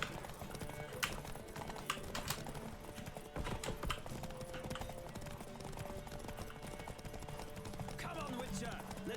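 Horse galloping in The Witcher 3 video game, a steady rapid clip-clop of hooves throughout with a brief neigh, close and moderately loud under a faint voice.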